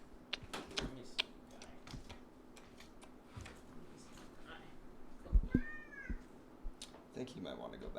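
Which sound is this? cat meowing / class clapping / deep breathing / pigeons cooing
cat meowing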